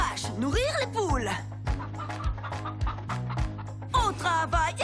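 Chickens clucking on a farm, with repeated short clucks over a steady rhythmic musical backing and occasional sung voice.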